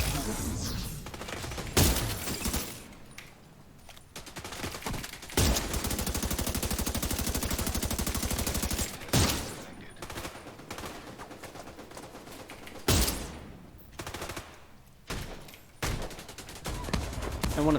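Sniper turret gunfire in The Division 2 video game: loud, dense bursts of rapid shots with sharp breaks, one sustained stretch of fire and several abrupt pauses.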